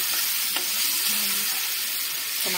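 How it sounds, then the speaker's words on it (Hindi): Tomatoes frying in a pan with potatoes and eggplant for aloo baingan sabzi, a steady soft sizzle with a few light stirring scrapes, close and alone. "इसमें टमाटर भी शामिल करेंगे हम, थोड़ा सा भून लें इसके बाद"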